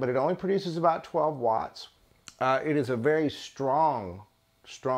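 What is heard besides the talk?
No everyday noises stand out.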